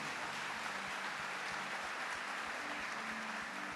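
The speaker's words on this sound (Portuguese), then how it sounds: "Pode aplaudir o Senhor por isso." A church congregation claps together in a steady, continuous wash of applause filling the room, even and sustained from start to finish, with no voices standing out.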